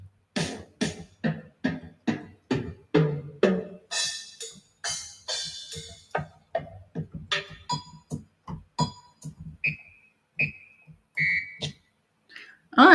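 Puzzle keys in a Nancy Drew video game play a steady series of short whistling tones and drum-like thumps, evenly spaced and close, switching to higher sustained whistles toward the end.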